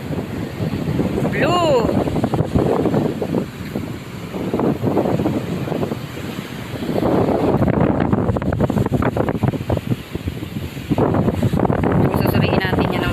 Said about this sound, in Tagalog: Kasi napakalakas ng alon.